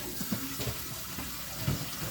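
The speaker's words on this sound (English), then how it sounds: "the food processor canister in hot soapy water" Water running from a kitchen tap into a food processor canister, filling it for a hot soapy soak; a steady close splash with faint clatter, no talking.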